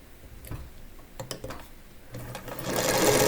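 A sewing machine stitches a scant quarter-inch seam on a quilt block in short bursts, then runs steadily and louder toward the end, with light clicking in between.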